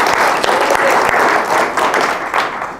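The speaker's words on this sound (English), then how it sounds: "round of applause for Toby for suggesting this." Loud, dense applause from a group, steady hand clapping filling the whole stretch and tapering slightly at the end.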